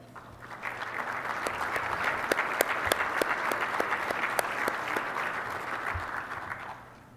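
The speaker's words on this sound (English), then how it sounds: "let's have a great big round of applause for all our finalists" An awards-ceremony audience at a US Youth Soccer recreation coach of the year event applauds the finalists with a full, sustained burst of clapping that swells quickly, holds steady for several seconds and then tapers off at the end.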